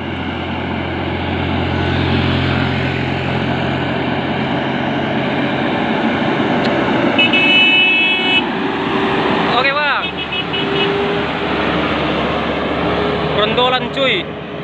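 A Mitsubishi Canter Euro 4 FE75SHDX truck hauling a 12-ton load of loose palm fruit, its diesel engine droning loudly and steadily under load, with shifting revs and brief whining, rising tones near the end.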